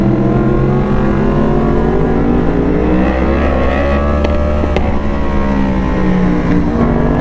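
A Yamaha R1 motorcycle on a cold winter mountain road near Murree, its engine roaring loud and steady throughout with rising revs as it passes close by, with no talk.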